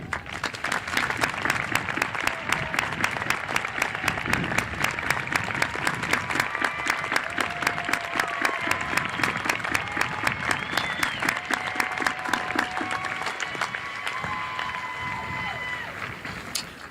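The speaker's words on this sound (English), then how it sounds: "Military students, please stand for a round of applause." A large graduation audience at a high school commencement applauds military students, steady dense clapping sustained throughout, loud and close with crowd noise and faint voices underneath.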